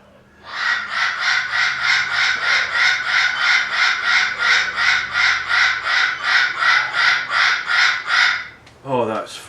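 A bird chatters in a fast, steady run of bright repeated calls for about eight seconds, loud and close, then a brief rising call cuts through at the end; no clear rooster crow stands out.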